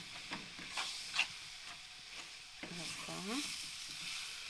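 A sweet coconut mixture is stirred in a pan, with soft scraping strokes over a quiet sizzle, fairly faint, and a voice briefly speaking in between.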